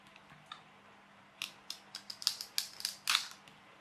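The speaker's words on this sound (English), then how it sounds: "So I should cut this out." Scissors snip through material being cut for a jet boat weed guard, a series of sharp, close clicks that start sparse and quicken into a brisk run of cuts.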